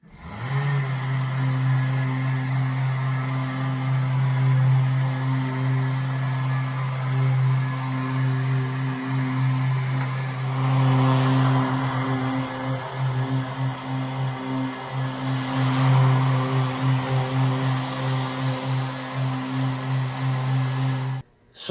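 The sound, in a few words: sander buffing an oil-finished wooden tabletop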